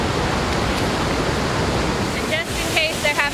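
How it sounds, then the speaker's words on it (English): A small waterfall in Banff National Park rushes steadily as a loud, continuous roar of falling water, with faint birdsong near the end. "there's just one more set of little falls"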